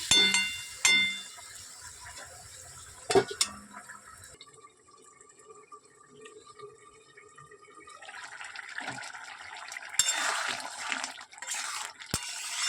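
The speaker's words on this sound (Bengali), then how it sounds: "এবারে আমি পরিমাণ মতন জল দিয়ে দিলাম" Water poured into a pan of cooking green tomatoes, a few splashy pours and clatters followed by a quieter steady liquid trickle and bubbling, fairly close with no talking.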